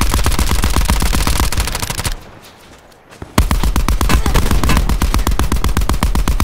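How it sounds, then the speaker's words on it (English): Rapid automatic gunfire in Call of Duty Black Ops 4's Blackout mode rattles loud and close in fast, even bursts, broken by one short pause before resuming just as hard. "Also gunfire to our back to the east."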